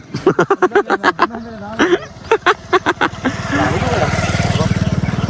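A motorcycle engine settles into a steady, throbbing idle near the listener after several seconds of excited voices talking over it.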